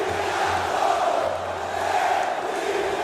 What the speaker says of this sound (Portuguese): Vibra a torcida Cruz Maltina